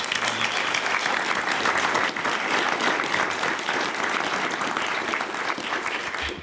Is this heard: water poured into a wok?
no